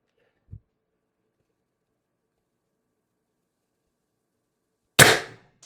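A single sharp, loud crack from an IntruBuster Gen 2 air launcher fitted with a Titan IB-2 drum magazine, standing alone after a faint small click and a stretch of silence, with a quick fading tail.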